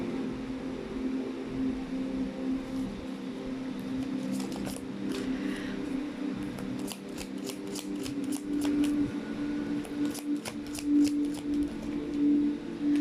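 Tarot cards being handled and shuffled up close, a run of quick soft riffles and flicks over a faint steady hum, with no one talking.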